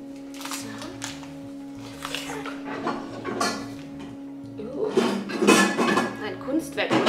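Metal pans clatter and clink as they are handled and stacked into a pile at home, the knocks growing louder and busier toward the end, with a voice speaking over them.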